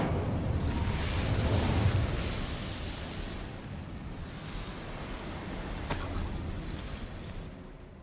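Incendio fire spell cast in Hogwarts Legacy: a sustained whooshing roar of flame that swells in the first two seconds, then settles into a steady rumbling crackle with a brief sharp flare near the end, no talk over it.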